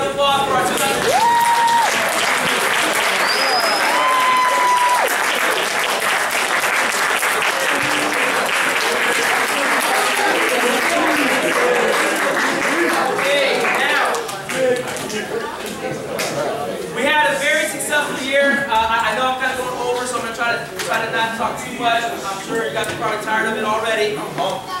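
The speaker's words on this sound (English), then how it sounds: "let's get a big round of applause for our 2000." Audience at a high school JV and varsity awards night applauding the standing varsity players: loud, sustained clapping from a large crowd with whoops and chatter, a few whistles early, lasting throughout.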